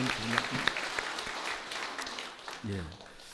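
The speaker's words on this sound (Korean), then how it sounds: "우리 박수 한번 하겠습니다." Church congregation clapping at a Sunday worship service, a scattered, fairly quiet patter of hands with a few sharper claps and a voice speaking over it near the end.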